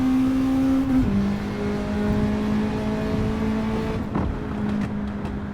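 Small car with a sports exhaust in Gran Turismo 7, the engine droning steadily and dropping in pitch, with a few sharp crackling pops and bangs breaking through toward the end, close and loud.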